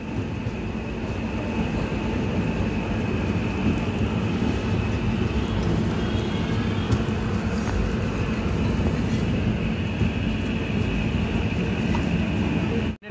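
The 02897 Santragachi–Digha special passenger train pulls out of Santragachi station, its steady, loud rumble and rattle of wheels on rail running continuously without any talk.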